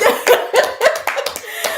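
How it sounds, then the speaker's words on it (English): A live audience claps and cheers for a pair of girlfriends, the applause steady and close with laughter mixed in over a short burst. "round of applause for the girlfriends"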